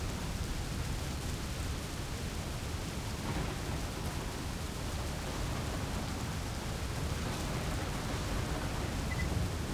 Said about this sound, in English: all we got to do is survive the thunderstorm